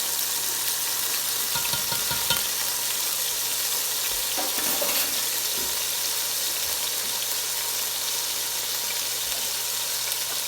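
Minced garlic sweats in hot oil at the start of a Guinness cabbage meatball soup, a steady broad sizzle and hiss running unbroken throughout, with a few soft low knocks from the pan and no talking.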